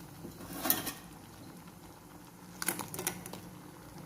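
Tamil-style crab curry simmering in a pot, a soft, fairly faint bubbling and light patter that swells twice, with no one speaking.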